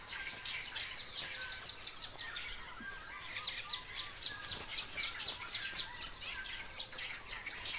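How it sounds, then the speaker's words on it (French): Birds in the forest canopy calling while fighting to defend their nests: dense, continuous chirps and overlapping calls with insect-like buzzing throughout, fairly loud and busy. "Pour défendre leur fief, les oiseaux n'hésitent pas à livrer bataille."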